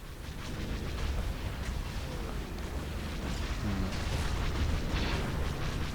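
Dense, continuous rumbling explosions and booming blasts overlap throughout a Star Wars: Empire at War Clone Wars mod video game battle, with no pauses.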